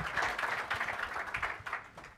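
Moderate applause from an audience welcoming a speaker at a conference on development financing, a soft, steady clatter of clapping heard from a distance and ebbing slightly over two seconds.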